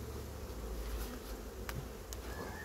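A dense, steady buzzing of a honeybee swarm close by during hiving, continuous and droning with no voices.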